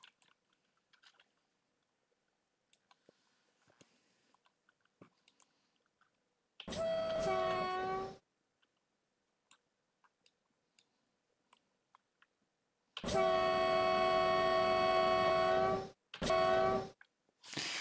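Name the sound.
diesel locomotive running in MaSzyna train simulator video game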